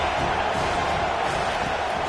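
A stadium crowd roars for the defense on a big third down in a Miami vs Clemson college football video game, a steady, dense wall of cheering at constant loudness.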